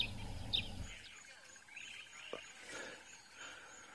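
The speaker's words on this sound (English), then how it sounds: "we can hear quite a lot of birds here who are making noise" Scattered bird calls and chirps on a bush morning outdoors, several faint distant calls spread across quiet ambient background with low rumble early on.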